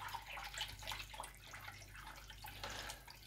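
Tap water runs steadily while a whisk is rinsed at a kitchen sink, a continuous close splashing hiss with small clinks and drips throughout, no talking.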